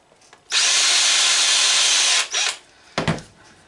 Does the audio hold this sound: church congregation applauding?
no